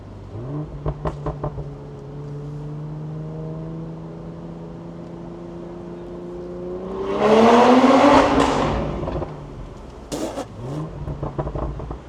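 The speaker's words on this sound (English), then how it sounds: "we wanted to test how the car sounds with the Catback exhaust on the highway" A BMW G14 840i with a catback exhaust, 200-cell downpipe and Stage 2 tune drones steadily while cruising on a highway, then revs up loudly in a roaring surge, followed by several sharp crackling pops.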